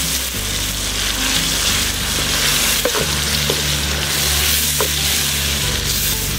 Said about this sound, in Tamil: தக்காளி அரைச்சது ஊற்றிட்டு நல்லா வதக்கிட்டேன்